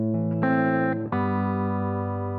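A guitar plays an arpeggiated bar from a song, with notes stacking into a sustained, ringing chord that shifts partway through. The tone is smooth, close and processed with effects, and no one talks.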